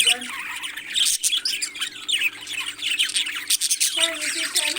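Parrots call loudly and continuously, harsh squawks and shrill chirps overlapping in a dense, close chorus with a faint low hum underneath.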